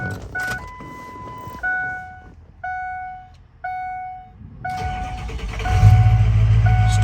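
A 2005 Ford Excursion Eddie Bauer with a 6.0L Powerstroke diesel: several in-cab warning chimes sound first, then the engine cranks and catches into a loud, low diesel rumble that idles to the end.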